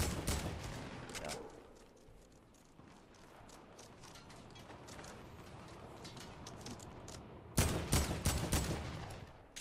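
Gunfire in a Fortnite-style battle game: bursts of rapid automatic shots at middle distance, easing off into scattered fire, then a loud close volley near the end.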